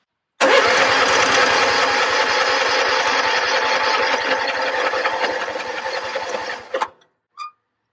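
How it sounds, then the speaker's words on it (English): A riding lawnmower engine cranks and catches, then runs at a steady, loud, rapid putter for about six seconds before cutting off abruptly, followed by one short faint tone. "We can go ahead and start this engine and see how it runs."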